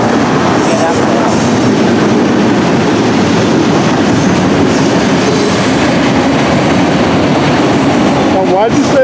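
A freight train rolls past close by at about 70 miles an hour on a downhill grade, a loud, steady roar of wheels and cars with clattering rail noise and a brief squeal near the end.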